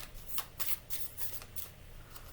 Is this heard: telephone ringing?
no